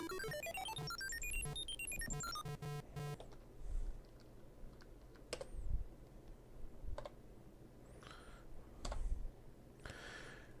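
Keys tapped on a computer keyboard while playing Super Solvers' Treasure Galaxy on DOS, scattered separate clicks and thumps after a run of rising game beeps, moderately close, with no talking.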